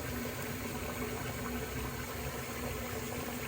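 Water drains steadily from a puck of artisan shaving soap, a continuous faint trickling wash with no pauses and no voices.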